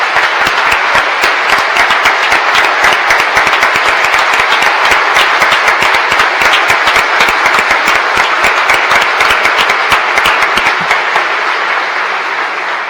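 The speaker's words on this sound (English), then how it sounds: "Please join me in applauding our Canadian neighbors for financing this project" A large audience at the Michigan State of the State address breaks into loud, sustained applause that fills the hall and rises into dense continuous clapping for about thirteen seconds, then tapers slightly at the end.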